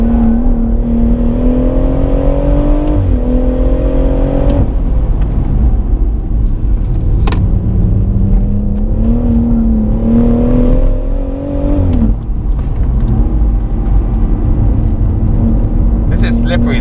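BMW M140i Shadow Edition on new Bilstein B6 dampers pulls hard with a loud, close engine note that rises through the revs, drops sharply at each upshift, then climbs again; a voice talks over it.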